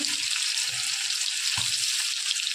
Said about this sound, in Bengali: শুকনো লঙ্কাটা ভাজা হয়ে যাও, পেঁয়াজটা দিয়ে দিলাম।